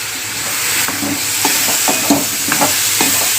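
Spices and cut potatoes frying in hot oil, a continuous loud sizzle and hiss broken by a series of spatula scrapes and stirring knocks in the pan.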